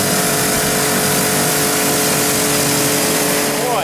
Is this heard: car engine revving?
yes